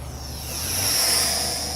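A WLtoys XKS A220-P40 four-channel mini RC fighter airplane flies past, its small electric motor giving a thin, high whine that swells and fades as it passes, with no talk.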